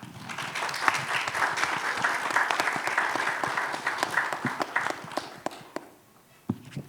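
An audience at a Skoll 2025 talk on African innovation claps together in sustained applause that gradually thins into scattered individual claps and fades out.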